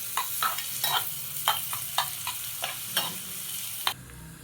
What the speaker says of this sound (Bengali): পেঁয়াজ কুচিটাকে আমরা হালকা মতন ব্রাউন করে নেব